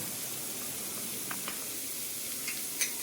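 Chili flakes and spices sizzling in hot oil, a steady soft hiss throughout with a few faint crackles and pops, quiet and continuous.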